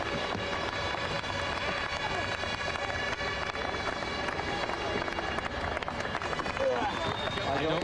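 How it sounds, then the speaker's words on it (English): A packed grandstand at the 2003 CART race at Lausitz roars during tribute laps, a loud, dense and unbroken crowd noise with steady tonal hum running through it for the whole stretch. "Listen to this crowd."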